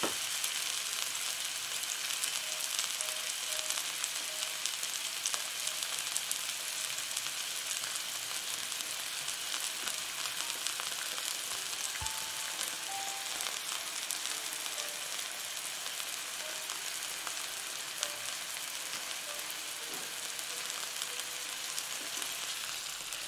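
Turkey breast fries steadily in a pan with thyme, a continuous close sizzle and crackle that carries on without pause after the pieces are turned over.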